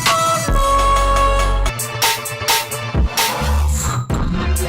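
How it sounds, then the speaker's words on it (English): Electronic music track produced in Ableton, dense and loud throughout, with thick bass, layered synth tones and small textured sound-design flourishes sweeping across the mix. No voices are present. "little flourishes of sound design goodness in a track that sounds like this"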